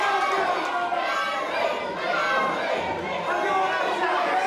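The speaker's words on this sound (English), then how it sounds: "And look, listen to the crowd." Spectators at an independent wrestling show during a five-way championship match roar and cheer continuously, a dense wall of crowd noise with shouts rising over it.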